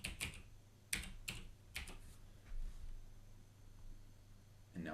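A password is typed on a computer keyboard in a few quick bursts of close, crisp key clicks separated by short pauses, faint and without speech.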